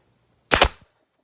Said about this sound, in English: I am going to secure this with a staple